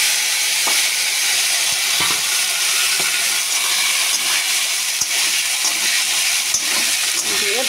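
Vegetables frying hard in a hot pan, a loud, steady hiss and crackle of sizzling oil that runs without a break, with a few soft stirring knocks.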